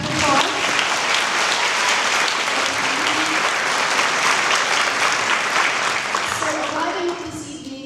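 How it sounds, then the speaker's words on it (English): Sustained applause from a crowd at a high school National Honor Society installation ceremony, dense and steady clapping with a few voices underneath, tapering off near the end. "a round of applause"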